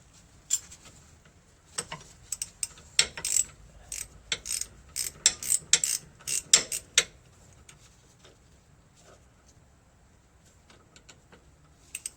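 A ratchet wrench loosens a nut on a Range Rover L322 front control arm, giving a run of quick clicking ticks in uneven bursts that then fades into quiet.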